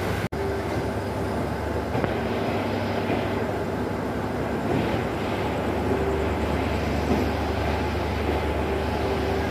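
A Bongaon local train running toward Sealdah, heard from inside as a loud, steady rumble and rattle with a sharp clack near the start, no talk.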